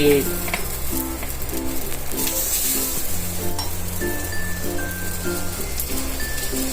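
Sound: patties shallow-frying in oil on a tawa griddle

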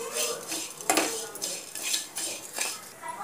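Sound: stirring poha with turmeric and salt in a pan

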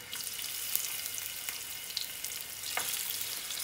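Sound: fish frying in a pan

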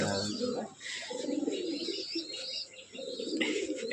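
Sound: white roller pigeons cooing

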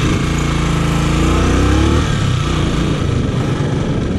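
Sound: motorcycle engine revving during practice ride

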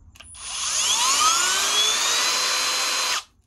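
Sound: Milwaukee M12 Gen 3 drill/driver running at speed one

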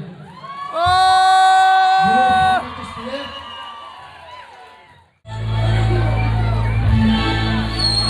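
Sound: audience applause and cheering at a live show

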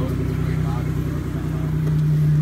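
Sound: car engine running

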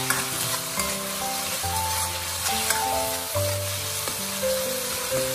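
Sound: stir-frying minced pork with doubanjiang in a wok

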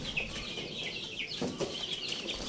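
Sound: chickens being put into a new cage

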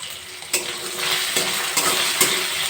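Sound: potatoes frying in a pan with salt and turmeric

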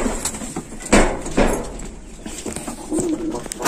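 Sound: pigeons cooing in loft

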